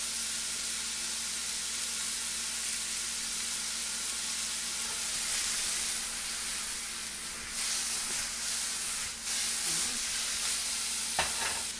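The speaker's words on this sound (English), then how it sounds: "We don't want to brown them, just a quick saute." Chicken pieces get a quick sauté in a black iron pan for chicken chasseur, giving a steady soft sizzle and hiss throughout, with a few scraping clinks near the end.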